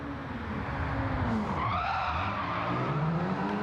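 A four-wheel-drive saloon skids through a handbrake turn on a hairpin in a Gran Turismo 7 time trial at Eiger, with sustained tyre squeal and a continuous engine note and no talking.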